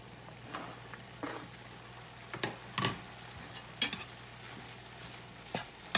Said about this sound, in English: Now that my ground beef has started cooking good, I'm going to go ahead now and add my onions and peppers.